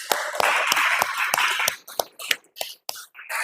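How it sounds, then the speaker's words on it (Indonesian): A classroom group claps together after a student presentation, crisp, steady, evenly spaced claps that break up into a few scattered, uneven claps before trailing off. "Beri tepuk tangan untuk kita semua"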